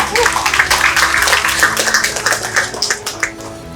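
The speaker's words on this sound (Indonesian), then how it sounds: "Tepuk tangan buat kita semua dulu." Applause from the audience at the soft opening of the Kupang Exotic Festival 2025, a dense stretch of rapid clapping from many hands, loud and close, with a voice faintly mixed in.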